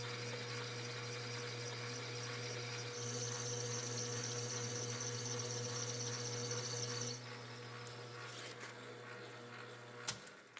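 A drill bores into a steam cylinder casting for a Pennsylvania A3 switcher locomotive model, removing bulk material with a steady, even machine whir and hum that drops slightly partway through, ending with a brief knock.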